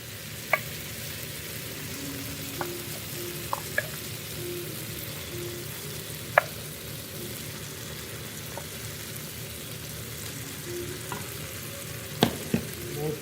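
Tomatoes sizzle steadily in a pan while the back of a spoon mashes them, the soft frying hiss broken by occasional sharp clicks and taps of the spoon against the pan.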